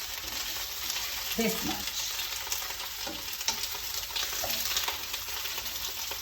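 Thai okra sears in a pan with a soft, steady sizzle and occasional stirring scrapes, close by and fairly quiet, with a brief spoken remark over it.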